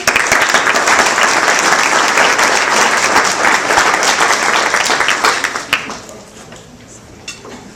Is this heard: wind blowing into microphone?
no